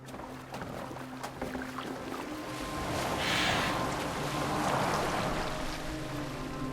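A boat glides over water in the Assassin's Creed Valhalla video game, with a steady wash of water and hull movement that swells slightly midway, plus a low ambient hum and no voices.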